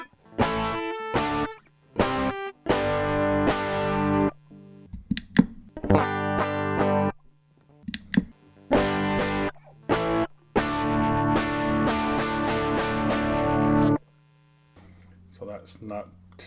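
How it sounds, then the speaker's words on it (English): Lightly overdriven electric guitar through a subtle distortion pedal, strummed chords and short riffs in bursts separated by pauses, with a low amp hum audible in the gaps. "So that's not too bad if you wanted just a subtle bit of distortion."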